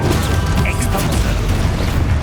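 An Expulso spell blasts in the Hogwarts Legacy video game, a loud, rumbling explosion with crackling debris and a continuous low roar, with brief voice-like sounds mixed in.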